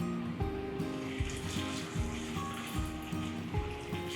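Chicken pieces fry in a thin layer of oil in a pan, giving a soft, steady sizzle with faint crackles, quiet and close, under a low background hum.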